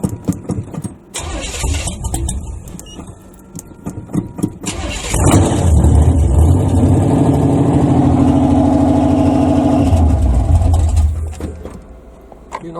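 A 1970 Impala with a 406 small-block Chevy, 12-bolt rear and 4L80E transmission, cold-started: the starter cranks in rough bursts, the engine catches with a loud roar, idles steadily and close, then fades down near the end.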